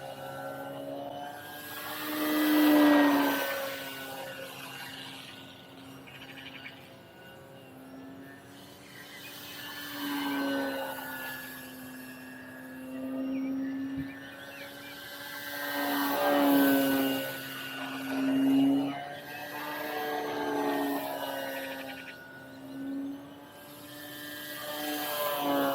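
An Arrows RC Bigfoot electric RC airplane on a 4S battery flies past, its motor whine rising and falling steadily as it banks and turns, no one talking.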